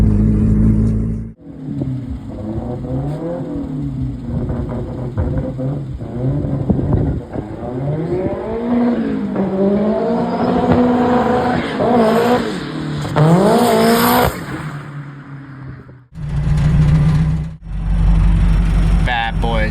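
A turbocharged K20Z engine in a Honda CRX with a GT3582 turbo, running 91 octane at 4.5-9 psi, revs loudly and climbs in pitch through sustained pulls, close and dominant, with voices talking alongside.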